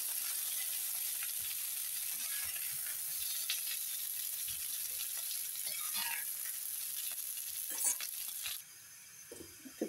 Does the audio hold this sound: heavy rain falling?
no